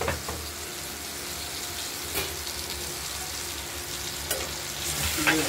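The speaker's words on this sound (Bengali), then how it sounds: "আমরা কাতলা মাছের পিস দুটোকে ভেজে নিচ্ছি, দেখতেই পাচ্ছেন, নুন হলুদ মাখিয়ে।" Two pieces of katla fish, coated in salt and turmeric, fry in hot oil with a steady close sizzle and crackle, plus occasional stirring clinks and a faint tap of water in the background.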